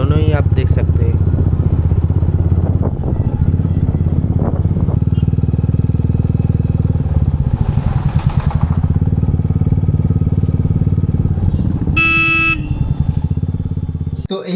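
Motorcycle riding captured by a DJI Action 2 camera mounted on the handlebar: a loud, continuous engine drone with steady low rumble and wind, a brief horn-like tonal burst near the end, no talk.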